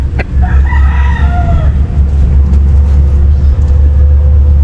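Chickens in a rural backyard give a few clucking and crowing calls early on over a loud, steady low rumble of engine or traffic noise, with no talk.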